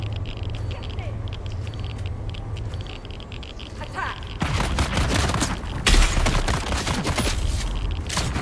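Rapid bursts of gunfire from a firefight in the game Dune: Awakening, loud and close, breaking out after a quieter ambient stretch and continuing in dense repeated volleys.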